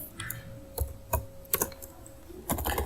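Sparse keystrokes on a computer keyboard while entering a command in Maple, a handful of soft, close clicks at uneven intervals over a faint steady hum.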